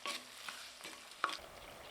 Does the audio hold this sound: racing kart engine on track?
no